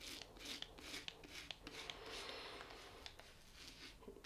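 Close, faint scratchy rasping of a Dorco Classic 7 seven-blade razor dragging against the grain over stubble in short repeated strokes, crisp and gritty, with no talking.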